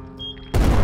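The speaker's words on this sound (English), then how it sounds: "There was an explosion that brought the entire mine down on David." An animated explosion in a mine erupts suddenly after a quiet, tonal lead-in, a loud, dense blast with a heavy low rumble that holds to the end.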